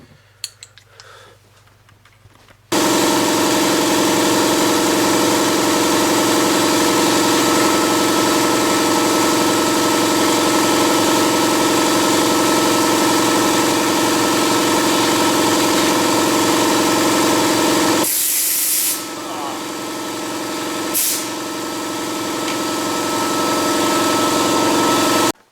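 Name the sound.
pneumatic air impact wrench vane motor running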